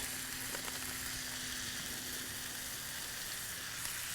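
A burger patty sizzles in a pan with a steady, quiet hiss of frying fat, constant and close, with no voices over it.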